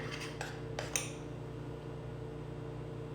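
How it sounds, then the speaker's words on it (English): A spoon stirs brownie batter donut glaze in a bowl, giving a few soft clinks of metal against the bowl early on and then quiet, faint stirring over a low steady hum. "So, you just give it a stir."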